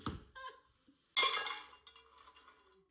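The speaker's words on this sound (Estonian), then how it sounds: "Oota, mul suuremat potti vaja." Metal pots and dishes clink and clatter in a home kitchen while pelmeni are being cooked, with a few scattered knocks followed by one louder clanging burst and then lighter rattling, close and alone.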